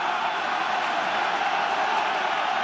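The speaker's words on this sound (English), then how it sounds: "And the crowd trying to ride Ireland home." Broad, steady roar of a large rugby stadium crowd urging Ireland on against New Zealand late in the second half, a dense sustained wash of voices with no breaks, heard from a distance.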